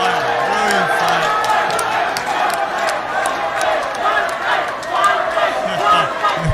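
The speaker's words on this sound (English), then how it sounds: "The crowd loves it." A boxing arena crowd cheers and roars after a twelve-round bout, a dense swelling wash of voices with whoops and shouts rising and falling, while a commentator talks over it.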